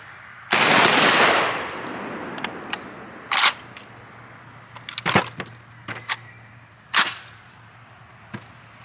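A JTS AK-12 shotgun loaded with double-aught buckshot fires a single loud blast at an outdoor range, followed by several sharper metallic clacks and clicks of handling.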